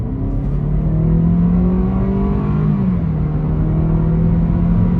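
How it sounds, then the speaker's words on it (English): A BMW F30 320i engine revs and pulls steadily as it accelerates on a road, a loud continuous rumble with rising and falling pitch throughout, no voices. "let's give it some gas"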